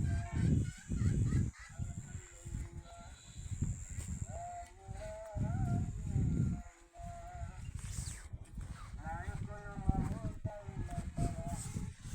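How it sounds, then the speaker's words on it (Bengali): Ducks roaming near a rural Bangladeshi homestead give off a few nasal, harmonic quacks in short bursts, moderately close, mixed with a steady outdoor background and people talking. "কি সুন্দর হাঁসগুলা ঘুরতেছে"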